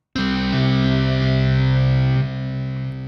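A distorted electric guitar chord produced in Logic Pro X with a slight detuning, struck once and sustained for about two seconds, then dropping to a quieter ringing tail, heard alone.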